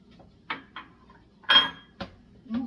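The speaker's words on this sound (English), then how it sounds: "We'll stir it up." A spoon clinks and scrapes against a pot while goulash mixture with beef broth is stirred, giving five or six short, fairly quiet knocks at an uneven pace with no talking.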